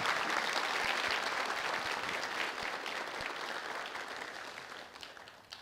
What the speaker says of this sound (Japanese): 皆さん拍手お願いします